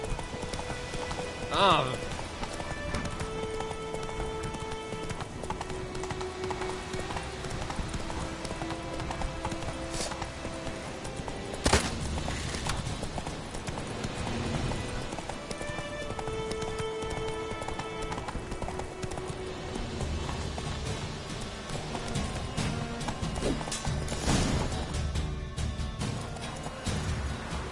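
Roach the horse gallops in The Witcher 3, steady clip-clop hoofbeats running throughout under game music and ambience, with a brief voice near the start.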